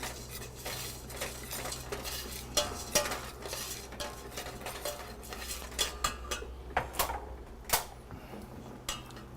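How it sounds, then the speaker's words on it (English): A utensil stirs browning, caramelizing sugar in a pan, scraping and clinking against the metal in quick irregular strokes over a low steady hum, close and fairly quiet. "I'm just stirring it around"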